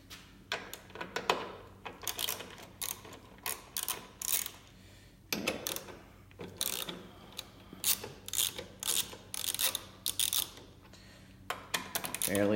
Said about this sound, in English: you're simply just going to get started with your socket wrench and loosen those up